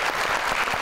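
A studio audience claps steadily for a couple at a Chand Raat special television show, with dense, continuous applause filling the short stretch and no voices over it.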